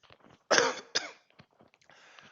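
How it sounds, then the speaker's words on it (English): Someone recovering from flu gives one harsh, close cough followed by a second shorter one, then some faint throat noises and breathing. "I'm actually over it now, but I'm still coughing a little bit."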